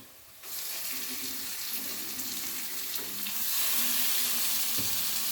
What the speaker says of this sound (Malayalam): ഈ കണവ ഞാൻ ഇതിലേക്ക് ഇട്ട് കൊടുക്കുകയാണ്